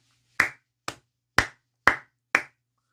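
One person claps five times in a slow, evenly spaced rhythm. Each clap is close, sharp and separate, with near silence between them and no talk.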